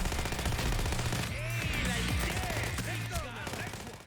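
Bursts of rapid automatic fire from the Heather SMG in PAYDAY 2, with a person talking over the gunfire and game effects mixed in.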